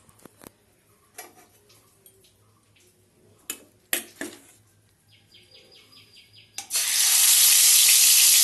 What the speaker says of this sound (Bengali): তাহলে মাছটা আগে ভেজে নেব।